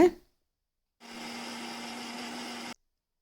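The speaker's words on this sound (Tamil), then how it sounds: "எடுத்து வச்சுருக்க அவலை மிக்சியில் பொடிச்சு எடுத்துக்கோங்க" Kitchen mixer grinder powdering flattened rice (poha), a single steady whirring motor burst of under two seconds that starts and stops abruptly after a short knock.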